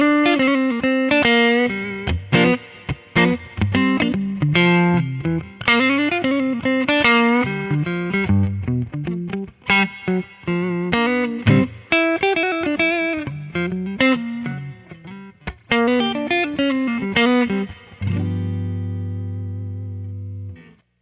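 An electric guitar with distortion, chorus and effects plays a blues line using minor-chord substitution, made of quick picked notes and bends in a flowing phrase that ends on a sustained, ringing chord.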